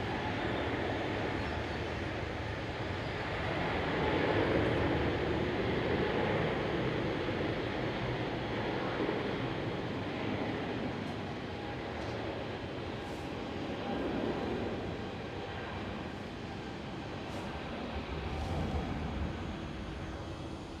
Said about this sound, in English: There goes the 777.